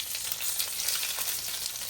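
Hot oil sizzles loudly as a tempering is added, a dense continuous crackle and hiss at close range with no talking.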